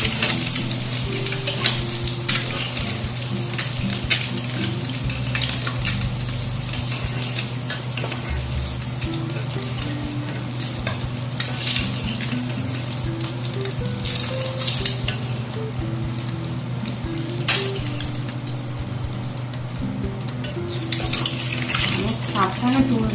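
Eggs frying in very hot oil on a tawa give a steady, close sizzle with a low hum beneath and occasional sharp clicks and scrapes.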